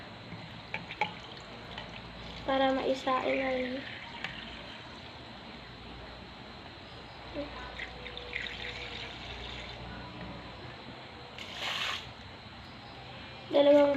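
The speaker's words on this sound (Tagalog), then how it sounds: "Tapos lalagyan natin ulit ng tubig" Water poured into rice for cooking in a home kitchen, a few short splashing pours and trickles separated by quieter gaps, close by, while a person speaks.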